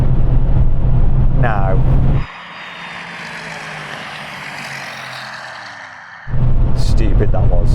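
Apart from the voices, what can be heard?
Porsche Cayenne Turbo gear change during drag race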